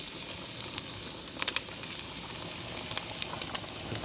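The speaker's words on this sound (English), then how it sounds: "Time now to add our garlic. Garlic going into the pot." Garlic sizzling in a hot pot with pancetta, a bright, constant frying hiss with small crackling pops close by, no talking.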